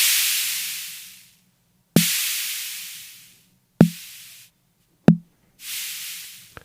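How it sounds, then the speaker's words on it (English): A recorded snare from a Drumbrute Impact analog drum machine: four sharp snare hits, each a thumping crack followed by a long hissy decay, separated by silent gaps. "I already recorded the snare and it sounds like this."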